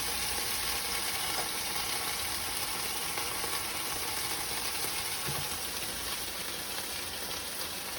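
Fish frying in a pan gives off a steady, even sizzle with a fine crackle, close and unbroken for the whole stretch, with no talking.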